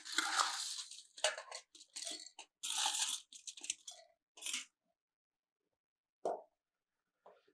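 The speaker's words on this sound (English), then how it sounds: "we are going to add our ice" Ice scooped into a cocktail mixing glass in a burst of clattering, crunching cubes, then a few isolated clinks after a pause, close and clear with no talk.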